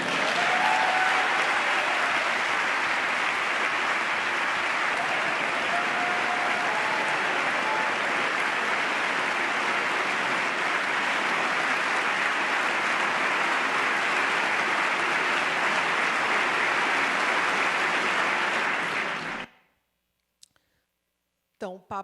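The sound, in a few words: standing applause for the Pope's speech to Congress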